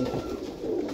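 A red-eyed pigeon coos close by, a soft low throaty call heard alone in a short, steady burst.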